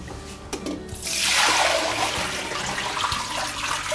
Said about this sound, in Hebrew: בואו נראה פעם אחת איך מחליפים מים